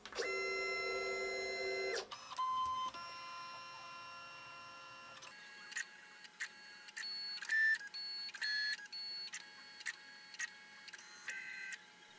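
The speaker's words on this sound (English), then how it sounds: "running a probing routine so that the machine can accurately account for the new" A Bantam Tools desktop PCB milling machine runs a probing routine, giving a steady electronic tone followed by a series of short, clean beeps and tonal blips at irregular intervals, fairly quiet with no talking.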